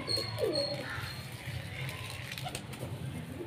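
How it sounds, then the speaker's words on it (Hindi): Pigeons waiting for feed coo softly at close range, a few low rolling calls over a faint background of chirps and light rustling. "दोस्तों देखिए कबूतर वेट कर रहे हैं कि अभी हमको दाना दिया जाए"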